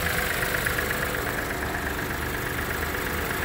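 A 2016 Mahindra TUV300 T8 engine idles steadily under an open bonnet, a continuous close mechanical drone with no pauses or talk.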